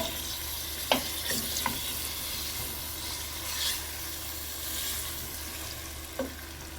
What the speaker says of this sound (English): Stir fry the mutton in the prepared masala.